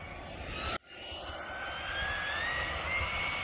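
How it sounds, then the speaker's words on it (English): An Arrma Mojave 6s RC car's electric motor whines loudly and close under heavy throttle, with a short dropout near the start before a steady, rising high-pitched scream carries on without a break. "As soon as you get above about a 3/4 throttle, she really wants to kick out that rear end."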